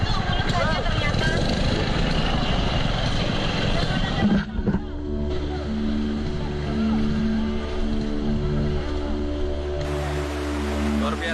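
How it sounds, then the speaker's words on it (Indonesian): Motorized canoe scraping among rocks in a fast, shallow river on the way to a waterfall in Kuantan Singingi, its outboard engine droning steadily with rushing water. The engine note drops briefly midway, then a steadier hum resumes. "Keseruan semakin terasa ketika sampan motor terjebak di antara bebatuan dan derasnya air sungai"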